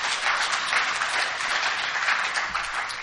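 Steady audience applause at the Flint River Roundup event in Albany, Georgia, a dense, even wash of clapping that holds at moderate loudness for about three seconds with no voices over it.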